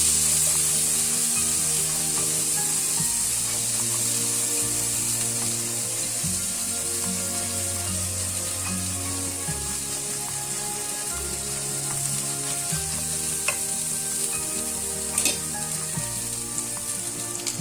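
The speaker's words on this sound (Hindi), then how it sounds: "अब ये मैं अदरक थोड़ा सा भूनेंगे" Ginger frying in a pan with red chilli powder, turmeric and ground cumin for a potato and okra curry, giving a loud, steady, close sizzle of hot oil that runs throughout with faint stirring.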